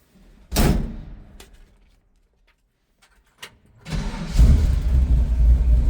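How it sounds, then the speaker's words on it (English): A door thunks shut, a few clicks follow, then the engine of a 1937 Chevrolet pickup street rod cranks and catches, settling into a loud, rough idle. "Every time I've started this truck, it pops right off."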